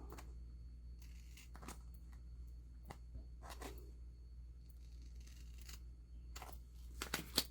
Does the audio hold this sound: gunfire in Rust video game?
no